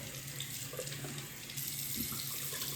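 A sink tap runs cold water for rinsing a face, a steady close splashing stream with faint shifts as hands move through it, heard alone.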